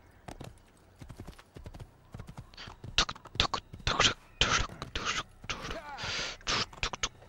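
A horse galloping in a video game, its hooves clip-clopping in a fast, uneven rhythm that grows louder and denser, with scraping and a brief snort, heard close and clear without talk.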